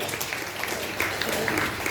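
Audience clapping at the inauguration of a women's forum in Rajajinagar: a dense, steady patter of many hands that holds at an even level for under two seconds.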